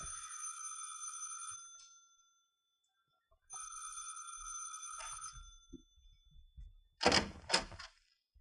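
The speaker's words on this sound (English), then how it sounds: "You ring the bell this time, Danny." A doorbell rings in two long, bright trilling bursts, fairly close, followed by quiet shuffling and a couple of sharp knocks or thuds.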